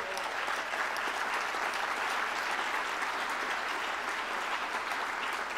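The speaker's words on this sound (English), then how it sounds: "I'm looking at some of you clap like this." Steady, even audience applause at a talk on abortion in Michigan, a continuous dense patter of many hands sustained throughout, heard from a distance at moderate volume with little voice over it.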